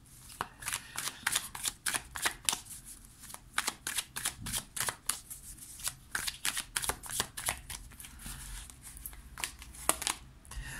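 Tarot cards shuffled by hand, a long run of quick crisp riffling flicks in an uneven rhythm, close and fairly quiet, with no talk over it.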